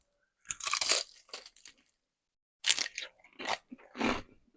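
Crispy home-made fried chicken is bitten twice, producing loud, close, crackling crunches, each followed by brief chewing in otherwise quiet surroundings.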